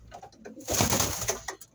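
Breeding pigeons coo nearby in a soft, rounded call that swells in the middle and trails off, with brief fluttery calls around it and no talk.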